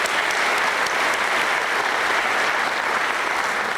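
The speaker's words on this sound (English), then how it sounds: "Give everyone a round of applause." An audience at a college State of the College address gives steady, dense applause that holds at an even level throughout, with no talk over it.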